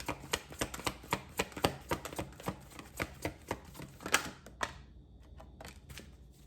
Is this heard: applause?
no